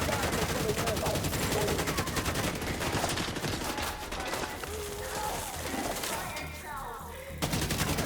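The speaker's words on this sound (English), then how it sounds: "Too much stuff shooting at me." Dense, rapid gunfire hammers away almost continuously in a team-based shooter match, loud and close. It thins briefly toward the end amid background game noise, and a voice is faintly present.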